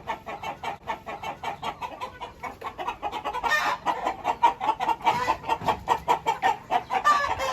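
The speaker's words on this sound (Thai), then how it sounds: "นี่ครับ ไก่ประมาณร้อยกว่าตัวครับ" More than a hundred chickens cluck in a coop in a busy, overlapping chorus, with repeated rhythmic calls close by and a louder burst partway through.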